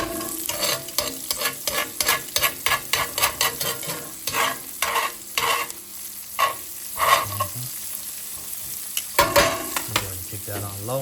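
Asparagus and garlic sauté in a sauté pan with a loud close sizzle and quick repeated scraping and tossing strokes, easing into a quieter hiss partway through.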